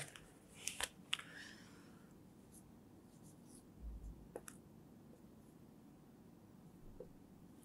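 A pen writing on paper: faint, close scratching strokes, a few sharper taps near the start, then quiet light scribbles in a hushed room.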